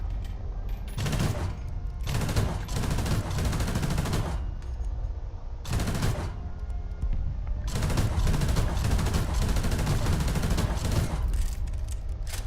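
Dense, continuous machine gun fire roars through a War Thunder battle, loud and close, with bursts separated by brief pauses and heavy booming low end throughout.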